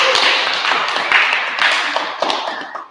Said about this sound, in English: I think you should all give yourselves a round of applause